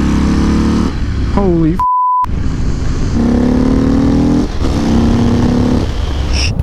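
A motorcycle engine revs and accelerates hard on a ride, its pitch climbing through gear changes; one swear word is bleeped out and a rider's voice briefly exclaims over the noise.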